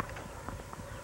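A horse's hooves clip-clop at a walking pace in West Virginia, giving several soft, irregular knocks that are faint and somewhat distant, with no talking in this short moment.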